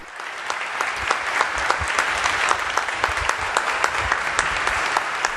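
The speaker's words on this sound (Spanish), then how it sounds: "el aplauso de todos los presentes a la homilía que el Papa León ha pronunciado" A large crowd of clergy at a prayer gathering in Turkey applauds Pope Leo XIV's homily, with steady, dense clapping that holds evenly loud throughout.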